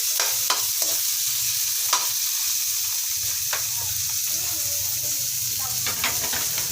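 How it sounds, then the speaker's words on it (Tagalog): Garlic, onion and tomato sauté in a pan, a constant close hiss of frying broken by sharp intermittent scrapes and taps of the spatula while stirring. "Dapat po gisang-gisa yung bawang, sibuyas, saka kamatis."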